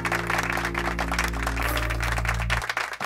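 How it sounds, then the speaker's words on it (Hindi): Clapping in a romantic film scene set in a hospital sounds as a dense patter of hands over a low, sustained musical drone that drops out near the end. "please give her a big hand"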